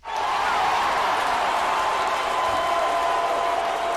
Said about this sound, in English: The Minnesota fans are cheering.